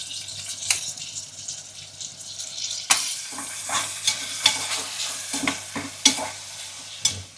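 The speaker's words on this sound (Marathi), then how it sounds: "तर आता याच्यामध्ये आपण टाकणार आहोत कांदा आणि टोमॅटो" Onion and tomato tossed into hot oil with spices, a soft sizzle punctuated by repeated sharp scrapes and clanks of a spoon stirring the pan, close by.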